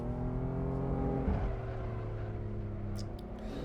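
A BMW M4 race car in the Assetto Corsa racing game at the Nurburgring holds a steady, close engine drone with layered tonal harmonics, a brief low thump near the middle, and no talking.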